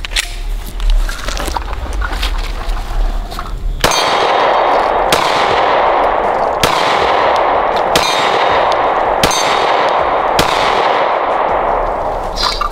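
A Glock pistol fires six shots at an outdoor range, each one ringing out as a sharp metallic clang off a steel target. The shots are spaced about a second apart, loud and close, after a stretch of quieter background noise.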